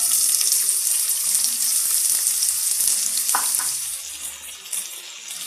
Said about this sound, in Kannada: ಬಿಸಿಯಾಗಿದೆ, ಈರುಳ್ಳಿ ಹಾಕ್ಕೊಳ್ಳೋಣ.